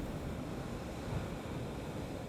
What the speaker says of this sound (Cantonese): 新北市海邊激起近10米高浪花，雨勢亦都相當大